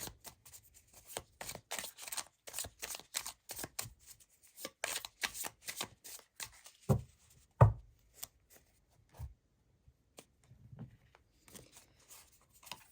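Light Seer Tarot cards being shuffled and laid out, a close run of crisp riffling bursts in quick repeated rhythm, then scattered slaps and soft slides as cards are set down.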